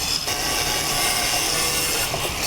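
Wood being hand-sawed to cut out a sword shape, a continuous rasping scrape with steady back-and-forth strokes, close and loud, with no voices.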